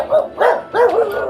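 A dog barks three times in quick succession close by, each bark loud and sharp with short gaps between, with no talking.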